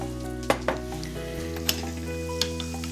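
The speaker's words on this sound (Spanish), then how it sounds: "Lo dejamos aquí hervir un poquito más, que reduzca a fuego lento" Mushroom sauce simmering in a pan over low heat for mushroom ravioli, a steady gentle sizzle and bubbling with a few soft utensil taps against the pan.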